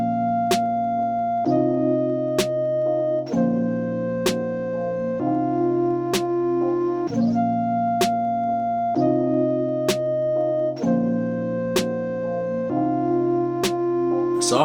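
A hip-hop beat loops a steady synth melody with sharp snare and percussion hits landing at regular intervals, full and loud throughout with no voices.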